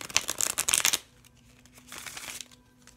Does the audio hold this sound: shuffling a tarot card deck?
yes